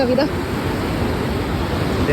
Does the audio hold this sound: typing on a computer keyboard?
no